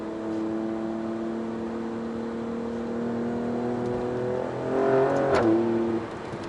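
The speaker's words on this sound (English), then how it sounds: "I like to downshift into a turn, accelerate, get those revs and that power built up" An Alfa Romeo Stelvio Quadrifoglio's engine hums steadily, then revs up with a rising whine and a sharp shift near the end before settling back down.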